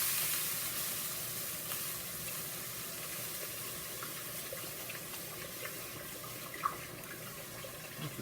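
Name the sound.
beef stock poured into pot roast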